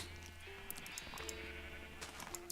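Sheep in the Minecraft video game bleat several times in short tonal calls, fairly close, over a steady game background with no talking.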